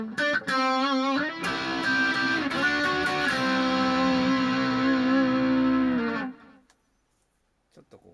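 Distorted lead guitar played through a BOSS MS-3 effects unit: a loud sustained run of notes with bends for about six seconds, then cut off into near silence with a faint trailing sound.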